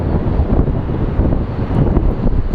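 Steady, close wind buffeting a microphone at Phoenix Sky Harbor International Airport, a continuous low rumbling roar with gusty swells that never lets up.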